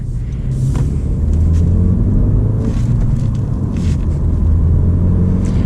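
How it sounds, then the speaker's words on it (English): Turbocharged engine of a 2020 Honda Civic Sport Touring with a manual gearbox accelerating, a steady low rumble heard from inside the car that holds loud and even throughout, with no talk. "it accelerates pretty quickly with that turbocharged engine"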